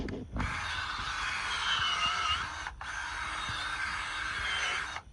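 A power drill whirs steadily for a few seconds, pauses briefly, then runs again, close and loud, with no talking.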